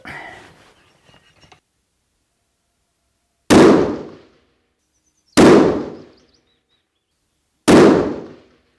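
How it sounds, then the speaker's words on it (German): Three sharp, loud unsuppressed rifle shots ring out one at a time outdoors in some wind, spaced about two seconds apart, each with a short decaying echo, after some faint earlier rustling. "So, das waren 3 Schuss."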